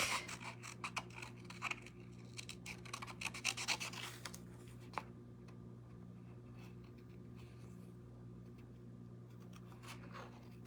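Scissors fussy-cut a stamped paper image in quick rapid snips and scratchy paper rustles. The snipping is close and busy for the first few seconds, then trails off into quiet with a few isolated cuts.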